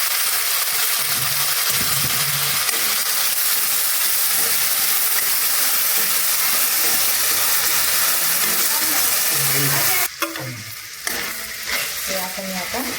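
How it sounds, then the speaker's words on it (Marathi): Potato, pea and paneer upma sautés and steams in a pan, a steady dense sizzle running throughout, with stirring scrapes and a brief clatter near the end as the hiss drops and becomes patchier. "हे आपण आता थोडंसं याला आपण परतून घेऊया थोडं 5 मिनिटापर्यंत वाफेत थोडं"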